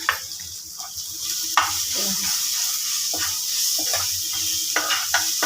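Grated raw mango is stirred and fried in a pan for mango pulihora, giving a steady close sizzle broken by repeated scraping strokes of a spatula.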